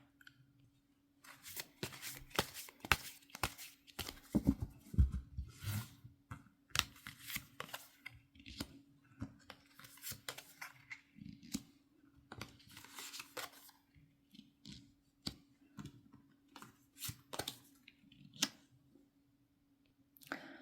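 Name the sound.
tarot cards being shuffled and drawn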